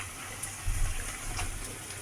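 Tap water gushes into and rinses a mixer grinder jar in a home kitchen, a steady close splashing stream with a brief louder surge near the middle.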